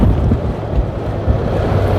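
Strong wind buffets the microphone during a road bicycle race, in a steady low roar, with a surf-like rushing underneath and no voices.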